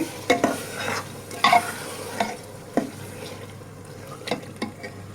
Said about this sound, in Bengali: সব ধরনের মশলা দেওয়ার পর এবার মাংসগুলো দিয়ে নিচ্ছি